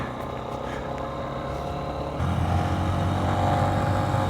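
A 2023 Honda CB125F with a Yuminashi 28mm throttle body runs as a steady, close engine drone, then rises to a louder, deeper note partway through and holds there.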